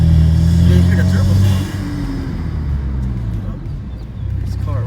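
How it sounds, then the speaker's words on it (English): A Cadillac ATS with a 2-liter turbo engine and a ZZ Performance exhaust pulls with a loud, low engine drone that eases off partway through, while a voice talks over it. "Can't really hear the exhaust till you actually step on the throttle. You can hear the turbo."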